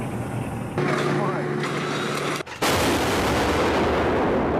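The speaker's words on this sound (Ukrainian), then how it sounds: "Найновітніша в світі арт-система Діта, якою озброїли підрозділи Нацгвардії." A DITA 155 mm self-propelled automatic howitzer fires in a field position, one loud, close boom that cuts sharply and then gives way to a long, rumbling roar over steady background noise.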